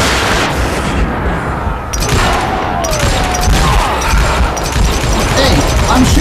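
An explosion from shot TNT in Call of Juarez: Gunslinger, a western shooter game, rumbles as a dense, loud blast amid continuous gunfire and game noise, with someone talking over it.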